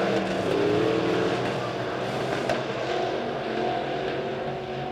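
Midwest modified race cars roaring around Springfield Raceway during a heat race, a dense, loud, continuous engine drone with shifting pitch as the pack passes.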